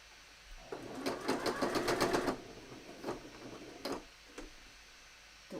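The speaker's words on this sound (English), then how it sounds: "you can hear my needle not particularly enjoying this fabric either" A sewing machine fitted with a denim needle stitches through heavy fabric for a bomber jacket, a fast rattling run of rapid needle ticks lasting about two seconds, followed by a few shorter bursts and clicks, close and clear.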